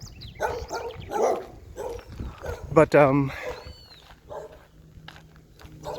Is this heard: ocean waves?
no